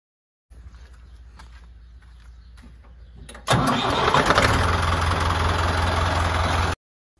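An Erkunt Kısmet 55M tractor engine cranks for a few seconds, then catches and settles into a loud, steady diesel idle close by, with no talking.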